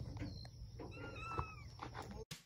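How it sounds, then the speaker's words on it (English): On a farm, a cat gives a few short, thin meows at close range over low background rumble, ending in a sudden loud clatter. "little kitty."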